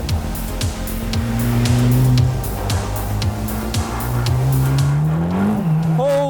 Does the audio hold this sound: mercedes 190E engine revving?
yes